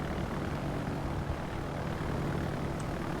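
Aircraft engines drone steadily in the naval battle video game World of Warships, a dense, constant roar of plane squadrons filling the whole stretch at even loudness with no voices over it.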